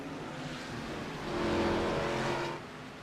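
Race car engines in iRacing at Watkins Glen, several cars running side by side with a dense, continuous roar that swells briefly as they push through a corner.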